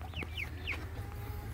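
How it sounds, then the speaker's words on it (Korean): Cheonggye chicks in an automatic brooder give several short, rising chirps and peeps over a steady low hum from the unit. "지금 보는 병아리는 청계특보락 해가지고 청계특보 병아리입니다."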